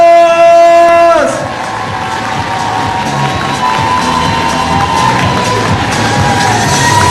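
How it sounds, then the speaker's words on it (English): Crowd cheering and shouting at a Wushu finals event at the 29th SEA Games 2017, a steady roar of cheers and whoops from a large audience, with tonal ringing at the start before the crowd noise settles in. "give all the Nation athletes a round of applause"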